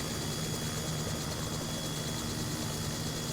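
Simulated helicopter rotor and engine drone from Helicopter Simulator, a steady, dense whir that stays loud and unchanging throughout with no talk.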